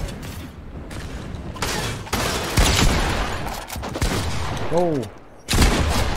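Gunfire rings out in Fortnite in several loud, separate bursts spread across the clip, close and punchy, with a brief spoken exclamation among them.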